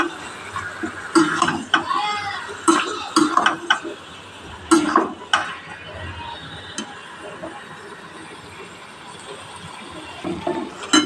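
A spoon knocks and scrapes around a pot while stirring a curry of mung lentils and papaya, irregular clinks and scrapes up close with quieter stretches between.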